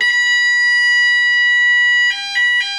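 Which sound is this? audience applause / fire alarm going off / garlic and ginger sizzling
fire alarm going off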